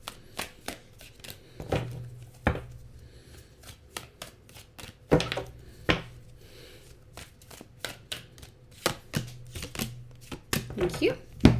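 Tarot cards are shuffled in quick bursts of riffling slaps and taps, close and crisp, with a voice speaking softly between and under the shuffles.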